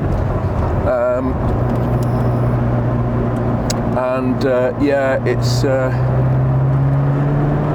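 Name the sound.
Ferrari F40 engine revving on racetrack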